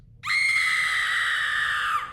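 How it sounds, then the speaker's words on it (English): A woman's long, shrill screaming shriek with a raspy vocal-fry edge starts abruptly and holds loud and steady for about two seconds before trailing off, in a horror-story setting. "She screamed at me, her finger extended, a screeching fry of a scream."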